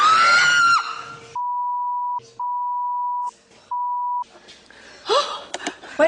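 A person screams in fright during a ghost hunt, a loud high shriek opening the sequence, followed by three long steady censor beeps and then gasps, breathy cries and rustling.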